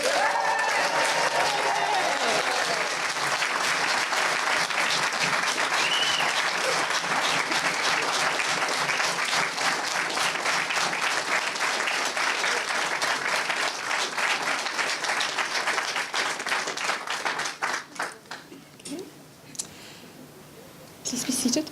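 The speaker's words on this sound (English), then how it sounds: "I think you all agree that the graduates deserve a great big cheer." Sustained, dense applause and cheering from an audience at a graduation ceremony for diabetes care and education graduates, loud and even for most of the stretch before thinning out into scattered claps.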